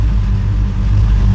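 An LS-swapped 1981 Trans Am idles through a Pypes Violator exhaust, a steady deep rumble with a throbbing low-end pulse that holds loud and close for the whole moment, with no talking.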